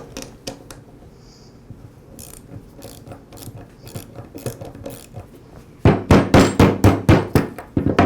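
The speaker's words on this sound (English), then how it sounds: "Next, I'll loosen the bolt that secures the clamp to the shaft." A clamp bolt on a Ryobi string trimmer shaft is loosened with a ratchet: quiet clicking at first, then a loud, rapid run of close ratcheting clicks near the end.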